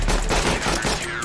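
Rapid bursts of close gunfire from a Counter-Strike: Global Offensive one-on-one match, dense overlapping shots filling the whole moment with no talking.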